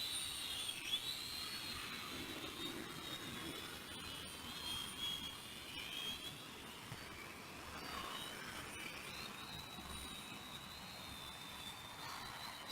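A U42WH Petrel model aircraft on its maiden flight in light wind gives a faint, distant high-pitched motor whine that drifts in pitch over a soft outdoor background.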